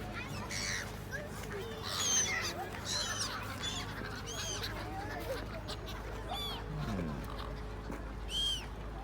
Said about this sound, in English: These are well and truly tame birds.